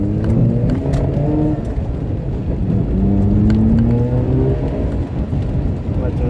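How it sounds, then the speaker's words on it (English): A 2009 Mazda RX-8 R3 with its rotary engine accelerates while driving, the engine note climbing through gears in rising sweeps, loud and close from inside the car. "I'll shut up and you guys can hear the car,"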